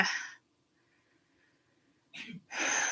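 One person sneezes: a sharp breathy burst, then quiet, then a second gasping burst, close and fairly faint.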